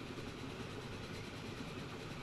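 A train running in the 1950s-era railway game Transport Fever 2: a steady, low rumbling drone of engine and rolling wagons, constant and even throughout, with no talk.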